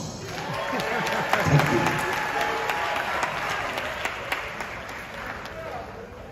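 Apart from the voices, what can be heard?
audience applause at a live comedy performance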